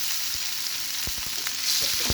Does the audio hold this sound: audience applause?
no